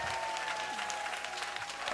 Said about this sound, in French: On raccompagne nos cuisiniers avec des applaudissements.